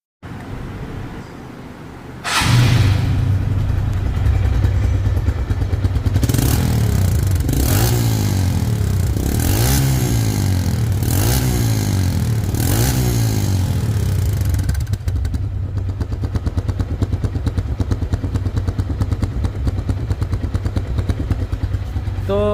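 After a short lull, a TVS Metro Plus motorcycle engine starts and idles nearby, revving several times in quick bursts before settling back to a steady idle.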